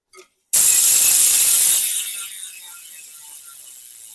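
A rapid, fine ratcheting buzz of a spinning ODIN carbon 20-inch bicycle wheel's freewheel hub, starting abruptly loud and then fading to softer ticking as the wheel slows.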